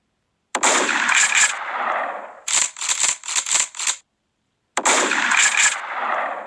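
Video game gunfire comes in loud, sharp bursts: one long volley, then a cluster of quick separate shots, a pause of silence, and another sustained volley, with no talking.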